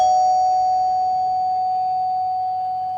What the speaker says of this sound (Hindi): डोरबेल बजती है।